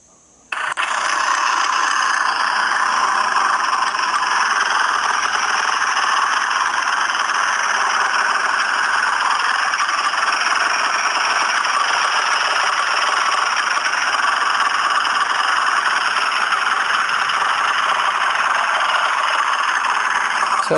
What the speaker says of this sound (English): Sounds like your typical two-stroke.